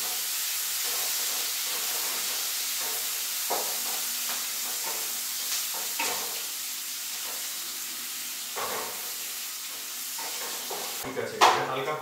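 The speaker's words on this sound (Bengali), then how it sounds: "এটা হালকা করে ফ্রাই হয়ে গেছে" Chicken pieces fry lightly in hot oil in a pan, a steady broadband sizzle running throughout with occasional stirring scrapes and soft clatters, growing busier near the end.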